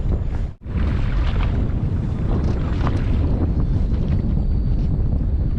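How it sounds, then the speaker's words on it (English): A southerly wind gusting over a small fishing boat on Botany Bay, Sydney, with loud, rough buffeting on the microphone and a brief dropout early on. "Here comes a southerly wind."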